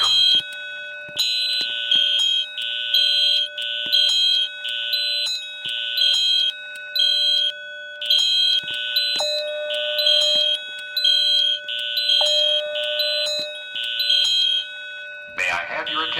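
Fire alarm system being tested, sounding repeated electronic chime-like tone bursts in a regular rhythm with a continuous steady tone beneath, loud and close, ending in a brief noisy burst.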